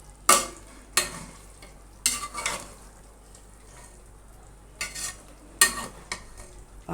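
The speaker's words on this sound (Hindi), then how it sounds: "टमाटरों को मैं अभी 5 से 10 मिनट पकाऊंगी," Tomatoes cooking in a pan for mutton biryani korma, stirred with a spoon in several separate scraping bursts over a quiet background sizzle, fairly close.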